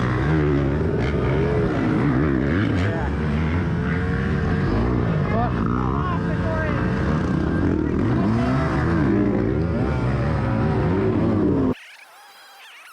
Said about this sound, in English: when I pulled the clutch in, I'm sure you guys could hear it started revving up like it was hot